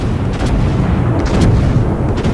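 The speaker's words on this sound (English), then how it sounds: "Shots out at the Omaha from quite a distance away" A warship's main battery in World of Warships fires a salvo at a distant cruiser, the Omaha, producing deep rumbling booms that roll on heavily and continuously, loud and up close.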